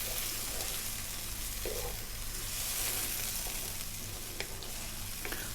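Canned whole plum tomatoes, mashed by hand, fry in a pan with shrimp cooking, giving a steady close sizzle with faint stirring scrapes and occasional brief clicks throughout.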